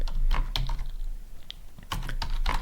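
Computer keyboard typing into an AI search prompt, close and fairly loud, in two quick bursts of clicking keystrokes separated by a short lull; no talk over it.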